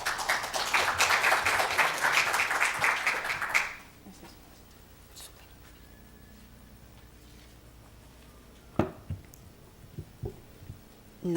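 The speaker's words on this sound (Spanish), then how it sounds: "Así que un fuerte aplauso para ella." Loud, dense applause from a seminar audience for a few seconds, then it stops abruptly, leaving quiet room tone broken by a few scattered taps and knocks.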